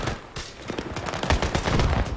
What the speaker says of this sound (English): let's show off the grenade launcher